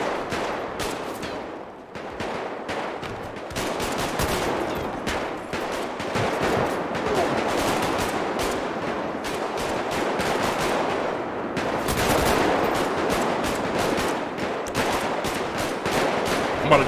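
Rapid gunfire rings out during a street drive-by in the GTA 5 roleplay game, with loud, dense bursts of shots repeating almost without pause through the whole stretch.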